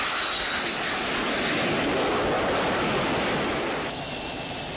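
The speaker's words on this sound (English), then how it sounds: "The Corps fields high-performance jet aircraft, such as the FA-18 Hornet Strike Fighter." A fighter jet roars overhead, a loud continuous rushing engine noise that swells slightly and holds steady throughout.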